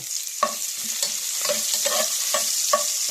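Ginger and onion fry in a hot pan with a steady sizzle, while a utensil stirs them in regular scraping strokes, close and clear.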